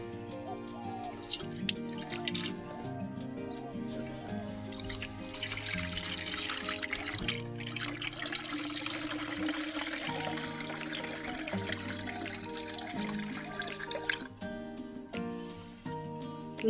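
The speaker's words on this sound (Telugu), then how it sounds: "ఈ ఆఫ్ మందం నేను వాటర్ యాడ్ చేస్తున్నాను" Water is poured into a 2-litre garden sprayer, a steady gurgling stream rising in pitch as the container fills, close and continuous over soft background music.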